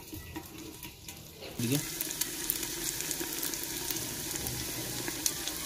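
Ginger and garlic fry in a pan for a village-style mixed vegetable dish, a quiet pause giving way to a sudden, steady sizzle with stirring, and a brief spoken word near the start.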